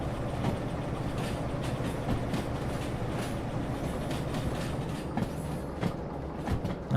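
A train rolling past in the game Derail Valley, a steady, loud rumble of wheels with rhythmic clickety-clack and faint metallic squeals throughout, close by and continuous.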